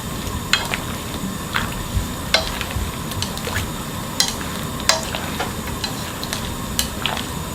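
Green garlic is stirred in a pot of boiling water for blanching, with soft scraping and swishing strokes and light clicks repeating irregularly over a steady bubbling hiss, close and fairly quiet.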